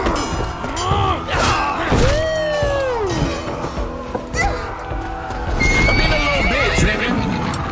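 Horse in the Assassin's Creed Valhalla video game whinnying loudly with a rising-falling neigh, then a second shorter whinny, over steady clip-clop of galloping hooves and game combat noise, with talk around it.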